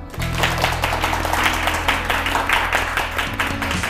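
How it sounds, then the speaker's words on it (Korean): A lecture-show audience in a Korean studio hall claps loudly to welcome a speaker. The applause is dense and sustained, with a steady musical hum underneath. "큰 박수로 맞이해주세요"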